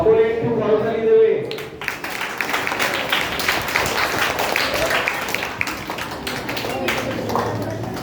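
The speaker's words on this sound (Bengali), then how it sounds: "সকলে একটু করতালি দেবে।" Seminar audience applauding after a speaker's call, a dense patter of many hands clapping at moderate distance that follows a short stretch of amplified speech and fades gradually.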